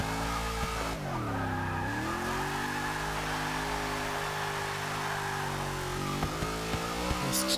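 Rear tyres of a 1993 Ford SVT Cobra R squealing in Forza 6, a sustained wavering screech over a loud revving engine, close and continuous with pitch bending as the car slides.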